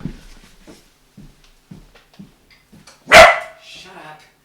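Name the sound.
dog barking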